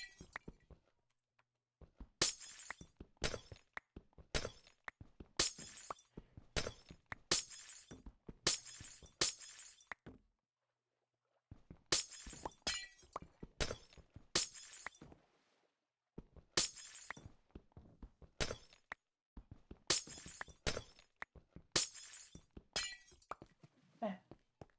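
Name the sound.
glass border breaking in Minecraft, video game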